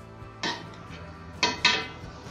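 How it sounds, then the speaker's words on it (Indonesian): A utensil scraping and clanking against a pan while stir-fried genjer (water spinach) is stirred, three distinct metallic knocks over a quiet background hum. "Kita aduk sampai rata."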